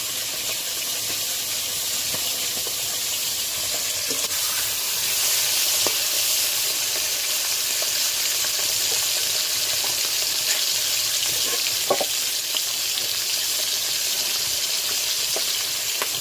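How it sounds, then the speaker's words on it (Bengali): Grass carp fish head frying in hot oil gives a steady, close sizzling hiss that runs unbroken throughout, with a few faint pops and no voices. "মাছ মাথাটা ভাজা হতে লাগবে"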